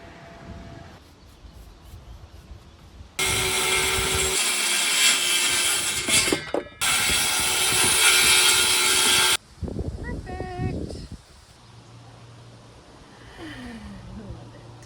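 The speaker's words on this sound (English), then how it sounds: "today I'm sanding between coats of paint" Antique chair being sanded between coats of paint, loud rasping scrubbing in two long sustained bursts, with quieter scraping and handling sounds around them and a little talk.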